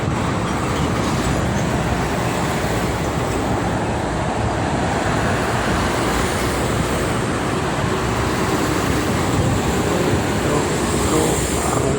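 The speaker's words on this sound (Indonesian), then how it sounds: "Banyak sekali truk." Steady roar of Jakarta–Cikampek toll road traffic with heavy trucks rumbling past, a dense, continuous wash of engine and tire noise with no pauses.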